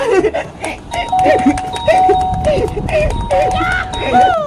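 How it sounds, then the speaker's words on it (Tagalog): A doorbell chimes repeatedly, a short two-tone ring sounding over and over amid background chatter and children's voices. "pwede na akong magpindot sa doorbell nila"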